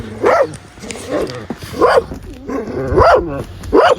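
Several dogs bark and yip repeatedly nearby, loud, overlapping barks coming in bursts about every second.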